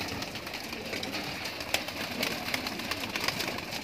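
Pigeons arriving at a loft near Mahim Dargah, with soft cooing and light fluttering wingbeats scattered through steady background noise, fairly faint and close.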